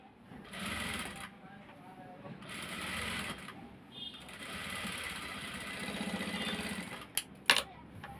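Sewing machine stitching clothing, a straight-cut pants and top outfit, running in steady bursts of rapid mechanical whirring close by, with brief pauses and a few sharp clicks near the end.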